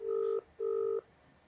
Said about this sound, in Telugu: అనితకి మనం ఫోన్ చేయబోతున్నాం.